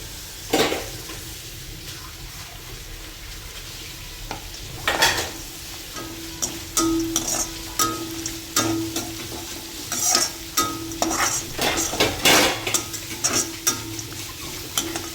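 Garlic greens, garlic and ginger are stir-fried in a pan under a continuous sizzle, with repeated clanks and scrapes of a spoon tossing the mix at an irregular, quickening pace.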